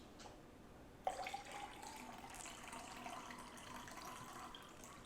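Sports drink poured into a cup, a steady liquid splash starting abruptly and continuing throughout, close and moderately loud.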